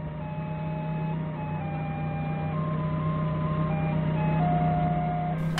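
A forklift drives and turns slowly on hard, firm ground at a construction site, its engine a steady drone with warning beeps and tones over it, continuous and close.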